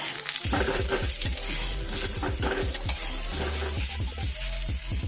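Boiled potatoes frying in a pan with fennel seeds, a steady sizzle under repeated scraping and knocking strokes of a spatula as they are stirred, close and moderately loud.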